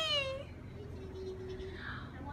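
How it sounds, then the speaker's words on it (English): A single short, high-pitched cat meow, close and clear, followed by quiet background. "Wait, there's a cat?"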